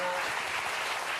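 Studio audience applause on a French television talk show, a steady wash of clapping at even loudness from start to end, without speech.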